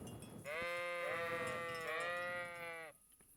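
A single sheep in the video game Kingdom Come: Deliverance bleats once in a long, wavering cry lasting a couple of seconds, clear and close against quiet background.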